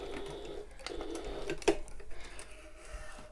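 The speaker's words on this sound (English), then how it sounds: "So I'm just going to top stitch as close as I can underneath the rectangle ring." A sewing machine runs in short bursts, top stitching a shoulder bag close beneath a rectangle ring and then stitching back again, with a quiet mechanical whir and light clicking that starts and stops.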